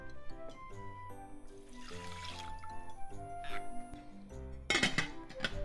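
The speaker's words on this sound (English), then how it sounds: "It's 1 cup of rice, so let's add 1 cup of water." A cup of water is poured into a pot of soaked rice, with trickling and splashing broken by clinks of a glass or vessel, close and fairly quiet, ending in a louder burst of pouring.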